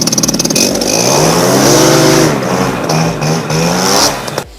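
A PPG Octagon 190 paramotor engine revs loudly and close up, rising and holding at high speed before easing off near the end, with no voices.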